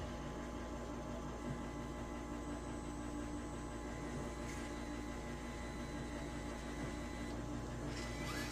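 RC rock crawler trucks, a Traxxas on a 2S battery and a high trail rig, crawling slowly across carpet, giving a steady close whirring motor and gear drone that holds throughout without talk.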